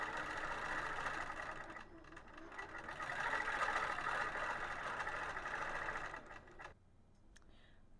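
A longarm quilting machine stitching a Dahlia wholecloth panel, giving off a steady mechanical whirring hum that dips briefly and then drops off sharply near the end, with no talking.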